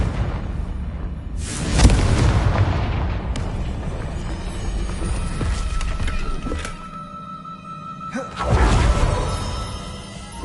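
Confringo explosive spell blast in Hogwarts Legacy, two loud booming bursts roughly seven seconds apart, each with a sharp onset and a rumbling tail, among quieter magical effects and no talk.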